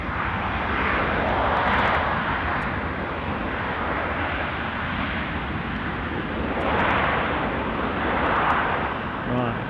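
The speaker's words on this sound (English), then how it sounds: "So this with the Bombardier Global 6000." Bombardier Global 6000 business jet at an airport, a steady broad engine roar that swells and eases over nearly ten seconds, fairly loud and continuous with no clear break.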